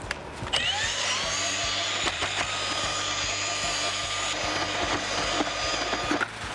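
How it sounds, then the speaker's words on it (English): An auger mixer spinning through bedding mortar mixed from half a bag of 495, a steady whirring drone with scraping and knocking as the paddle works the mix, close and unbroken. "Take my auger mixer,"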